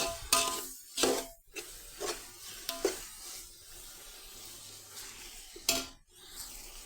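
A spoon clinks and scrapes against a pot as tomatoes are stirred into fried onions and ginger. Several sharp knocks come at irregular intervals over a faint background sizzle.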